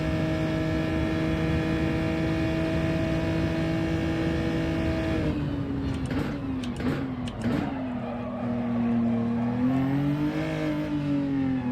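Car engine in an online racing video game, a steady droning tone that holds for several seconds, then shifts and wavers as the revs change, loud and continuous with no talk over it.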